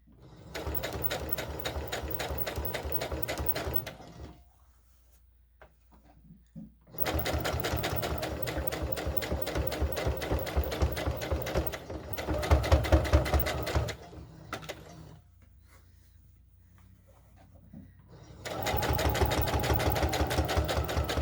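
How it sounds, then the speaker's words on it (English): A plastic sewing machine stitches a doll bodice over lace for a Burda 8843 pattern, running in three long close bursts of rapid needle chatter separated by quiet pauses, briefly straining mid-run. "My machine does not do well on bulky pieces, so when it got stuck there for a second, it was going over the lace."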